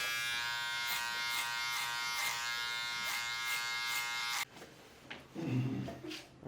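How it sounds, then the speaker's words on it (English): Electric hair clippers buzz steadily and loudly as they cut hair during a skin fade haircut with a comb, then stop abruptly, leaving faint handling and brushing sounds. "bring my clipper and my comb in together to really create that stable and controlled pass"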